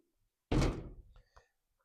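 A Jeep driver's door handle tried from outside, giving one solid thunk followed by a couple of short rattling clicks, close and alone with no talk.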